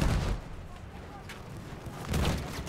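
Bomb explosions in the Battlefield 1 video game: a heavy, rumbling boom at the start and another around two seconds in, over a steady bed of battlefield noise.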